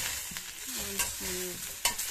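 Tamarind, asafoetida and coriander leaves are lightly fried in a pan, with a low sizzle under scraping stirs of a spatula and a few sharp clinks against the pan.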